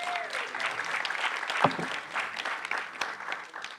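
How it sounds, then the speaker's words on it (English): Symposium audience applauding in a hall, a steady moderate round of many hands clapping that carries on throughout, with a faint voice briefly audible. "I think he deserves a round of applause."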